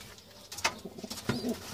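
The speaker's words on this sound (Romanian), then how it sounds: "niște porumbei în volieră, dar încă au pui mici." Pigeons in an aviary giving soft, low coos, with a few faint calls rising over quiet background noise.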